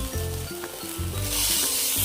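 Sardines frying in a pan as they are flipped over, a loud close sizzle that swells and crackles throughout, with soft scraping bumps from the turning and no voices.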